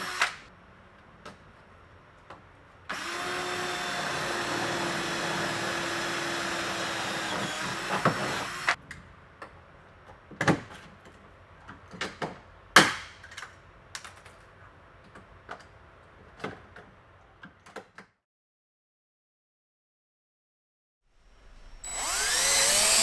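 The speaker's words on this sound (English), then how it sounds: "We're going to put rivet and a rivet and one more to the inside." Rivets set one after another during installation of parts on an EZGO Sleekline golf cart, with a long loud grinding or buzzing burst early on, then a series of sharp separate snaps and clicks, and a quiet stretch before noise returns.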